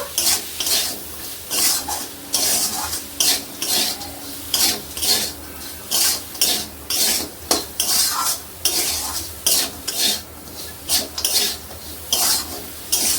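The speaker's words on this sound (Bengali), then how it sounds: "কেটে রাখা বিনস, দুটো কাঁচা লঙ্কা কুচি, গোলমরিচ গুঁড়ি, সবকিছু দিয়ে একটু নাড়াচাড়া দিয়ে নেব।" A spoon scrapes and clatters through a chicken momo filling of carrot, chopped beans, green chilli and ground pepper in a pan. The strokes are rhythmic, close and loud, with a light sizzle underneath.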